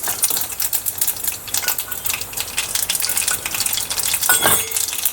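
Cumin and mustard seeds sizzle loudly in hot oil, with a dense crackling hiss and rapid popping bursts close by, continuous through the whole stretch.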